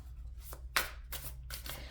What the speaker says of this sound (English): I started shuffling, but I pre-shuffled for oracle.